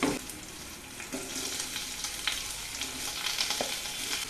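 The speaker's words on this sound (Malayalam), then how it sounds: "അപ്പോൾ വെളുത്തുള്ളിയുടെയൊക്കെ പച്ചമുളകൊക്കെ ഒന്ന് മാറിക്കഴിഞ്ഞിട്ട് നമ്മൾ സവാള ഇടുക." Sliced onion fries in oil with garlic and green chili over a medium flame for an okra curry, giving a soft, steady sizzle broken by light crackles and stirring clicks.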